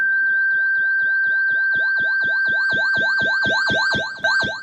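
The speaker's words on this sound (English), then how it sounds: "Siren. Yeah, that's a siren." A synthesized warbling tone made with FM synthesis sweeps up and down in rapid, repeating cycles like a siren, growing brighter and louder over several seconds.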